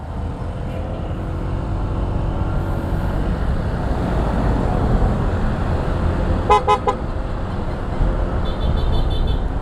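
A Honda Giorno scooter's horn gives a short burst of toots partway through, cutting above steady engine rumble and road wind noise while riding toward Cavinti, Laguna.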